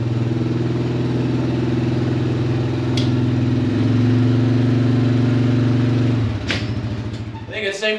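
A four-wheeler ATV engine runs at a steady, close, droning idle, shifting pitch slightly partway through, then cuts off, leaving a few clattering knocks.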